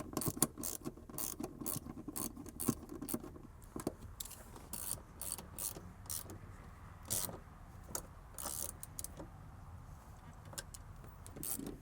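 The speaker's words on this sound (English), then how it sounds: "I'll just do it approximately using regular ratchet." A regular ratchet clicks in quick irregular bursts while tightening front seat bolts in a 2010-2014 Subaru Outback, close up, with faint metallic clinks between strokes and no talking.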